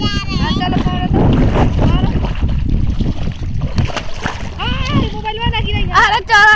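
A person swims and splashes in a river. Choppy, loud water splashing and wind buffeting the microphone mix with voices and playful shouts throughout.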